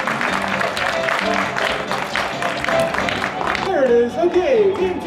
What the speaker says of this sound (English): Let's give a round of applause to Cats Man.